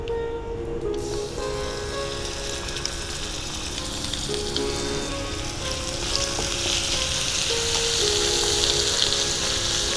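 Ginger paste with cardamom, cinnamon sticks and bay leaves fries in hot oil as it is stirred, a loud dense sizzle that swells over time with occasional scraping.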